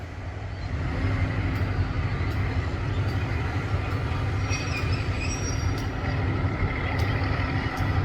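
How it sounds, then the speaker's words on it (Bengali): Tista Express train arriving and stopping at Melandah Bazar station, heard from the opposite side: a loud steady rumble of wheels and cars rolling past with faint squeals and clacks, running continuously. "থেমে গেল ট্রেন"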